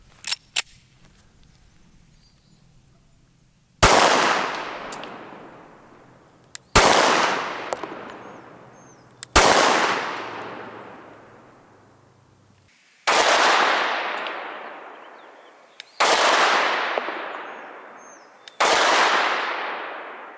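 Six loud, sharp shots from a Glock 43 pistol firing Gold Dot ammunition, each a crisp crack with a long echoing decay, spaced roughly three seconds apart with no talking.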